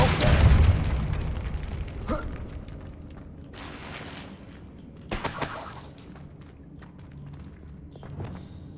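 Spell effects from the Hogwarts Legacy video game's Depulso force-push: a deep booming rumble at the start, then sharp crackling, shattering bursts at intervals over a steady low hum of game ambience.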